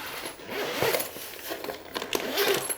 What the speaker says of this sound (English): Zip smooth.